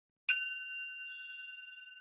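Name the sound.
meditation bell ring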